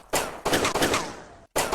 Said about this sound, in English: but you shoot once and it's fine.